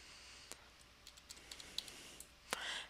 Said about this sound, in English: use the up arrow key on your keyboard to increase sides, and use the down arrow key on your keyboard to reduce sides